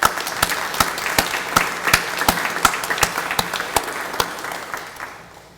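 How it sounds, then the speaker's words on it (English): A small audience at a college partnership signing applauds itself with a few sparse, sharp individual claps over a light patter of clapping, fading out at the end. "let's all give ourselves a round of applause"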